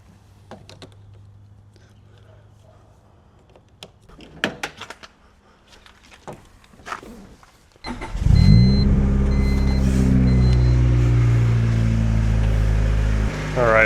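A boosted Honda Civic engine cranks and fires at about eight seconds after quiet handling noises, then holds a loud, steady cold-start idle to the end.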